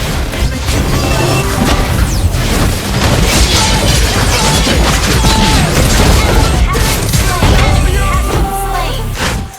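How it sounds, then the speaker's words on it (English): A turret is destroyed in the Mobile Legends video game amid dense, loud game effects, with crashes, booms and impacts layered over music. "Our turret has been destroyed."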